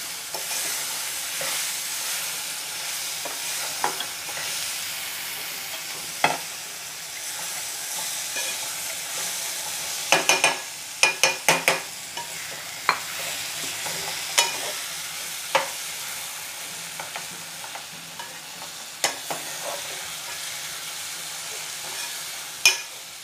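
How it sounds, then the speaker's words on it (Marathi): Taro leaf bhaji (aluchi bhaji) frying in a tempering, a soft continuous sizzle punctuated by scattered spoon scrapes and knocks against the pot, with a brief cluster of quick taps midway. "आता ही भाजी फोडणीला घालूया."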